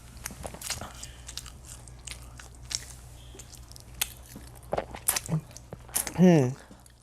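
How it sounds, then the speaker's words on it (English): Someone bites into and chews a slow-cooker pulled pork sandwich topped with peppers, close crunchy bites and soft squishy chewing sounds scattered between quiet moments, ending with a short voiced sound. "Now it's time to eat."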